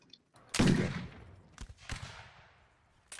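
Musket volleys in the Napoleonic Wars game: a loud, close shot with a long decaying tail, followed by a few sharper, more distant reports and one more crack at the end.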